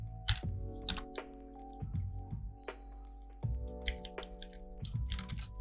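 Code is typed on a computer keyboard, close and clear, with irregular bursts of clacking keystrokes and short pauses, alone without talk.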